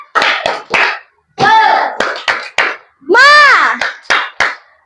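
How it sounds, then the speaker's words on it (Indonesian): A class does a rhythmic spirit clap, crisp sharp clap groups in a set pattern alternating with loud chanted children's voices, close and punchy. "Tepuk semangat!"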